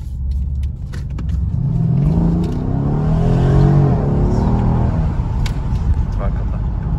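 A Mercedes CLS63S engine revs, a deep loud rumble rising and falling over a few seconds, heard close up with someone speaking over it.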